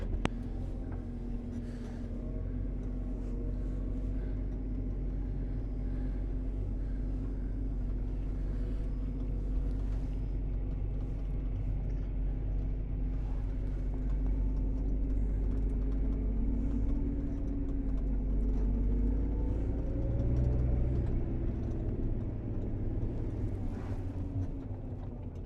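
A John Deere 820 tractor on a farm drives steadily while pulling a blue grain trailer, its low diesel engine rumbling continuously at close range, swelling slightly louder toward the end.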